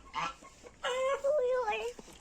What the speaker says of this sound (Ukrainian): оце так півень каже